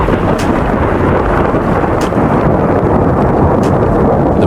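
Heavy rain pours steadily with deep rumbling thunder rolling underneath, a loud, dense storm wash filling the whole stretch with a few brighter crackles.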